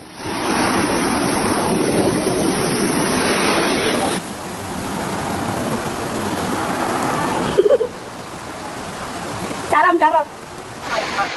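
Flash flood water from the Tebing Tinggi river rushes loudly through villages below the Pitap dam in Awayan, South Kalimantan, Indonesia, a broad roaring wash that drops in level partway through, with brief voices near the end.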